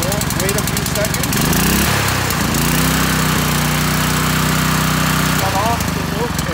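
A Magic Weld 150 A welder generator's small gasoline engine starts up, then settles into a loud, steady idle with a constant drone.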